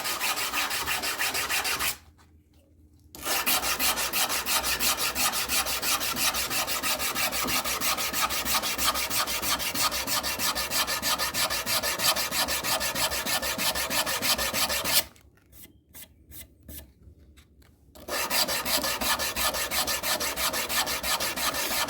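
Steady back-and-forth rasping of abrasive paper on a steel knife blade, sanded by hand with paraffin, close and continuous, with two short pauses where the strokes stop.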